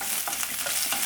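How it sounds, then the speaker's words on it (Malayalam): Chopped capsicum and French beans sautéing in a pan for hara bhara kabab, a short soft sizzle with stirring scrapes, close and alone. "ഇത് ചെറുതായിട്ടൊന്ന് നമുക്ക് വഴറ്റിയെടുക്കണം."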